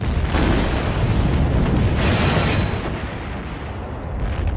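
An asteroid striking a planet's surface in a massive impact explosion, its blast wave flattening structures: a loud, continuous broadband roar and rumble lasting the whole span, easing slightly in the final second and a half.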